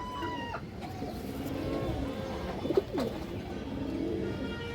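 Pigeons cooing near the microphone, a few soft throaty coos and short calls over a faint background hum.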